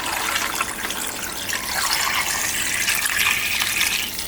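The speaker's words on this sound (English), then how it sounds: "we're going to add 4 cups of water" Water poured into a pressure cooker for mutton nehari, a steady gushing stream with a splashy, rising fill sound heard alone for a few seconds.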